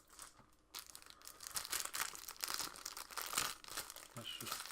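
Plastic wrapping crinkles and tears off a WWE 2K19 Ric Flair plaque, continuous close rustling and crumpling that grows louder midway, with a voice speaking faintly at times.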